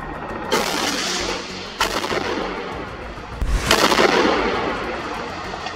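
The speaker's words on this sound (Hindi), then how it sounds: "सामने से एक बम या रॉकेट आकर गिरता है, जिसमें जोरदार धमाका होता है" Several sharp, loud blasts in succession in a Gaza combat zone, each with a booming rumble, the last and biggest, a rocket hitting an IDF tank, followed by a long rolling decay.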